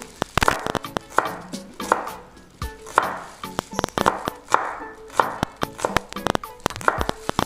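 Shallots being sliced with a knife on a cutting board for yellow pickle, a steady run of sharp, close chopping taps in quick bursts with short pauses, loud and without talk.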